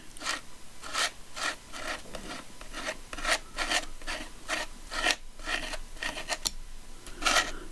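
A palette knife scrapes paste across a stencil for mini journal and collage work, giving a series of rhythmic rasping strokes, close and steady, with no voices.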